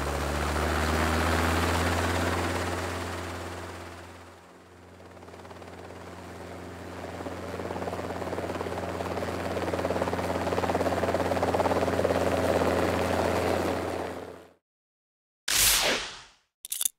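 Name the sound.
helicopter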